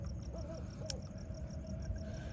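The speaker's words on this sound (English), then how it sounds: "The other thing that I added last year was this owl, which I like, and he makes a lot of noise" A Halloween decoration owl gives a couple of soft, repeated electronic hoots over steady background noise, with a faint high chirping pulse throughout.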